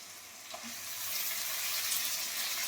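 Onion and capsicum fry in oil in a pan, giving a close, continuous hissing sizzle that grows slightly louder and holds steady. No one speaks.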